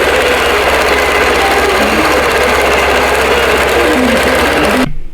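A quilting sewing machine stitches a block design with variegated thread in the bobbin and gold fabric on top, running as a loud, steady, fast mechanical rattle close up before stopping abruptly at the end.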